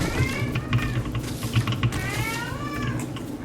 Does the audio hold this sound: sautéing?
no